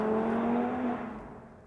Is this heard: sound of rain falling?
no